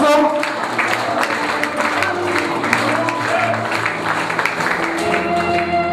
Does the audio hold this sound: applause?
yes